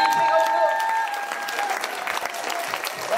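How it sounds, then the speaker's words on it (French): A cabaret evening audience applauds the technician, dense sustained clapping from a full room, steady and loud throughout with a brief voice or whistle tone over it. "on peut l'applaudir bien fort, on peut se lever pour l'applaudir même."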